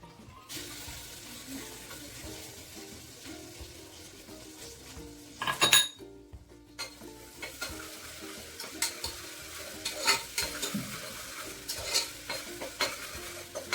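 Crushed ginger, garlic and green chillies tossed into a pan for a dhaba-style mutton curry and stirred, a steady hiss of frying with a loud clatter midway and repeated scraping clinks of a spoon against the pan.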